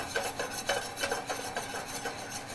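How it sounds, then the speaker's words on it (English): A whisk works flour into melting butter in a pan, making a steady run of quick, rhythmic scraping strokes close by, with no one talking. "as the butter's melting, you wanna make sure to incorporate that flour. Here we go, got a whisk here."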